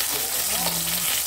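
Sliced eggplant frying in hot oil: a dense, steady sizzle and crackle throughout, close and continuous, with a faint tonal hum underneath.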